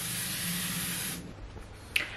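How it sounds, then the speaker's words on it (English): Makeup setting mist sprayed in a steady, close hiss for just over a second, followed by quiet room tone and a faint click. "3 second setting mist."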